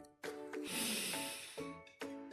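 A single deep breath drawn in through the nose at a green farm campsite, a long close airy inhale with a nasal snort-like edge and faint voiced tones around it.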